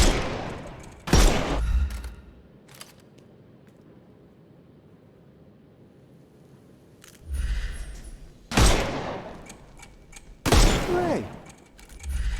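Gunfire blasts at enemies' armour in the game Sherlock Holmes Chapter One: a few loud, separate shot bursts, one early and three more later, spaced by quiet gaps holding a low background hum.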